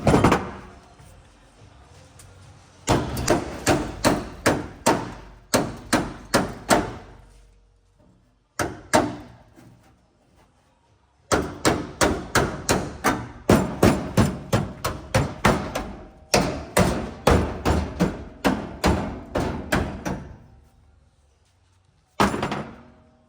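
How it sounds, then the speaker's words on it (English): Repeated hammer blows on a car's rusted floor panel during floor replacement, loud metallic strikes in rapid bursts of a dozen or more, separated by short pauses, close and with no talking. "hammer that down a little bit so we can get a good feel for it"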